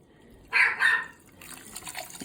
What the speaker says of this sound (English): Maggie just won't stop barking